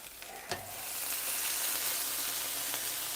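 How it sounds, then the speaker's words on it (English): Onions sizzle loudly on a hot griddle, a steady hissing crackle that swells after a couple of scraping clicks of a spatula. "You hear that sizzle as I move them over where move the onions."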